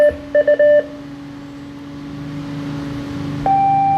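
ARDF fox hunting beacon sending tones: three short beeps, then a quiet stretch of hum and hiss, then a steady tone returning at a different pitch near the end, close and clear with no talk.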